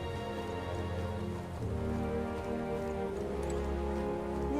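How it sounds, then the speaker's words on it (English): Steady rainfall in the video game Metaphor patters on a surface, a soft continuous wash of drops with no voices. "Rain. What am I gonna do?"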